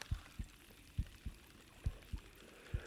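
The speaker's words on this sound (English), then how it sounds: "It's got a trophy heartbeat." A trophy fish's heartbeat effect in Bassmaster Fishing 2022 thumps faintly in soft, low, evenly spaced beats, about seven in three seconds, over a quiet background hum.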